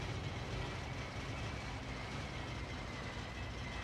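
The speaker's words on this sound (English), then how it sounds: "You can actually hear the engine is about ready to pack up." Failing piston aircraft engine in the IL-2 flight game, a steady broadband drone and rumble with a rough, labouring tone, loud and continuous with no voices.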